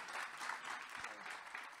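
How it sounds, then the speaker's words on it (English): A conference audience claps for a student panel speaker, a brief dense burst of steady applause heard at moderate distance and fairly quiet. "so big applause for him as well"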